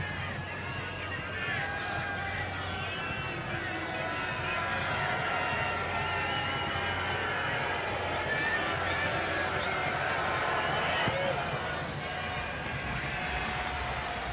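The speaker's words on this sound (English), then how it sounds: "The crowd did their best to put him off" Stadium crowd noise roars steadily throughout a rugby league match between Toronto Wolfpack and Hull Kingston Rovers while a conversion kick is taken, a dense continuous wash of voices under broadcast commentary.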